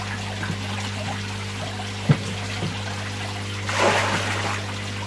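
Bubbles rise and trickle in a koi pond, a soft watery gurgle over a steady pump hum, with a brief splash-like pop and a swelling burst of fizzing near the end.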